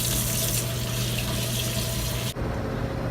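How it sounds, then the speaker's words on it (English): Warm tap water runs steadily from a faucet while hands are washed with soap, a continuous close splashing rush that cuts off abruptly near the end. "you're going to want to wash your hands. For 20 seconds with soap and as warm as water as you can take."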